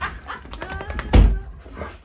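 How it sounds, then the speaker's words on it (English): Excited puppies bark in short bursts with high whimpers and yips between them, led by one sharp loud bark, while a person speaks faintly underneath. "Look at the puppies all excited."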